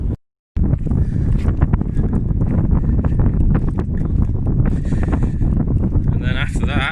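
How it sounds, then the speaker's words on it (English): Strong gusting wind buffets the microphone on an open Lake District fell, a continuous loud roar that starts after a brief dropout and runs steadily throughout. "this wind is starting to get a bit of a bite about it"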